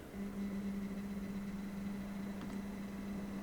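A Roco S160 model locomotive moves forward under load, its small electric motor giving a steady, close, low-pitched whine with a faint mechanical hum and no speech.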